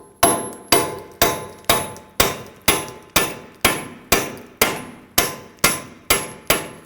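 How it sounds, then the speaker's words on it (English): Steel hammer striking a solid punch set on the axle end of a 2013-2019 Ford Explorer Interceptor rear hub, about a dozen sharp, loud metallic clangs in a steady, evenly spaced rhythm, each ringing briefly before the next blow. "use a good solid punch in the center, and then give it a few smacks with the hammer"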